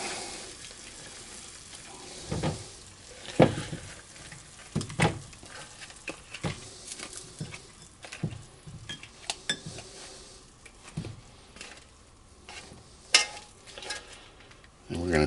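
Shrimp frying in a pan for Cousin Leslie's barbecued shrimp, with a moderate sizzle broken by sharp clinks and scrapes of a utensil against the pan throughout.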